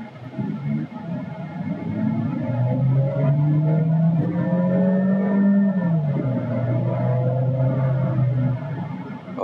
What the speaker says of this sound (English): I'm gonna do a quick short burst acceleration and we will see how sporty does it actually feel driving S mode